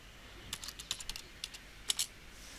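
Fingers type on a computer keyboard in short irregular bursts of crisp clicks, close but quiet, with no voices.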